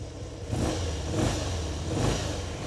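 A 2003 Harley-Davidson Dyna Low Rider's 1450cc V-twin engine is blipped in three distinct rumbling revs, each swelling and settling back toward a deep, lumpy idle, close and loud.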